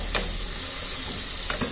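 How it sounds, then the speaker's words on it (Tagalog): Mixed vegetables with a little shrimp sautéing in a pan give a steady, close sizzle and hiss throughout, with two short stirring scrapes near the start and end. "gisa-gisa lang yan mga loves"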